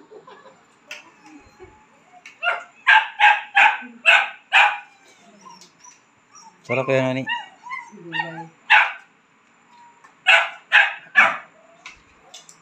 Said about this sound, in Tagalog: Ang lalaki ng mga aso niya dito ngayon kaya yun.